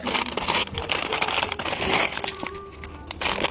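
A plastic bag of LEGO pieces from an F1 race car set is torn open and handled, making loud, close crinkling and crackling with irregular bursts.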